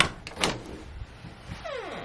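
An office door opens off a tiny hallway, swinging only partway before it catches on a crossbar, giving a few short thumps and a brief creak.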